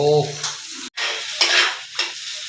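Egg chowmein with spices being stirred and fried in a pan, with a loud sizzle and several scraping spatula strokes against the metal, close and alone.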